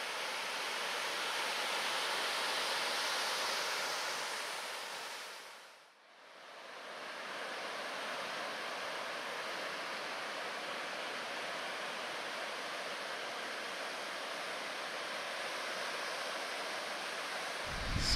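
Ocean surf at the Trestles break, San Onofre State Beach, California, a steady broad wash of breaking waves that dips briefly then resumes, fairly distant and unbroken by voices.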